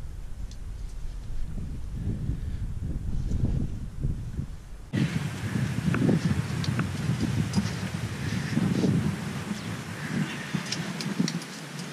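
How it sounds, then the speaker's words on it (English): Wind blowing through the rocks at the Schreyfels climbing crag makes a steady broadband rush that runs the whole time and grows fuller and louder halfway through, with no voices. "It's nice when the wind goes through the rocks there."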